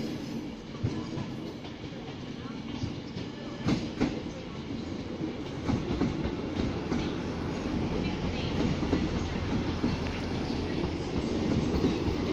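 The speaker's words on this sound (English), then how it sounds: "Here comes an East Midlands Trains service to Liverpool Lime Street" An East Midlands Trains service rolls into Manchester Piccadilly station, a low rumble that builds and grows steadily louder, with soft clacks over the rails.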